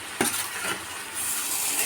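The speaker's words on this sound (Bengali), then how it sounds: "এরপরে আমি এই ভেজে রাখা সিমগুলো দিয়ে দিলাম" Fried flat beans tipped into a pan with green chillies, giving a soft clatter and a brief rise in frying sizzle that carries on steadily, close and moderately loud.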